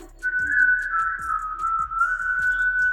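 A single whistler carries a tune, a steady melodic line that runs almost without a break, while soft rhythmic thumps tap along underneath.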